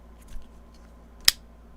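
A single sharp metallic click of a dagger snapping open, close and distinct against near silence.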